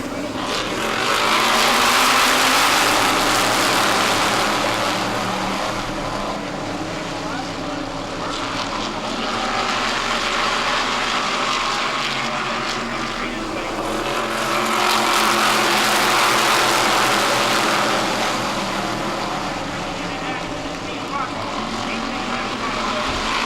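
Race cars running laps on an oval track, a continuous loud roar of engines that swells and fades as cars pass, with a commentator talking over it.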